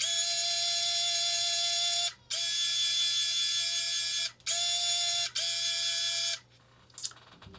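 A Ninja winch runs with a loud, steady mechanical whine in three long bursts separated by brief pauses, then falls quiet before a short clatter at the end.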